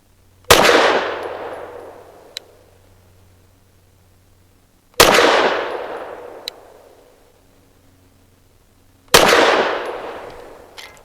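Three loud, sharp pistol reports from a BUL Armory Ultralight PRO firing 90 grain Underwood ammunition, spaced about four seconds apart, each cracking hard and then ringing off, with faint clinks between shots.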